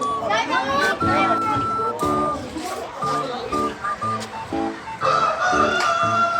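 A rooster crows repeatedly close by at a highland resort in Negros, its calls overlapping with loud music and people talking throughout.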